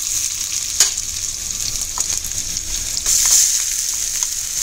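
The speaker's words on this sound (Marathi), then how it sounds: "कांदा चांगला लाल झाला की आपल्याला वाटण आपलं परतून घ्यायचं" Ground masala paste sautéing in hot oil after onions have browned, with a steady close sizzle, a few sharp spatters and the scrape of stirring, louder in the final stretch.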